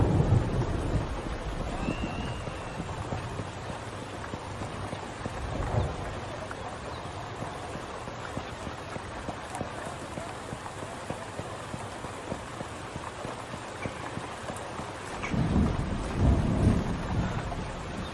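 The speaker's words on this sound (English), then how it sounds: "I think the thunder is too loud." Thunderstorm in the video game Drug Dealer Simulator: steady rain hiss with low rolling thunder rumbles, one early and a louder swell near the end, loud and continuous with no talking.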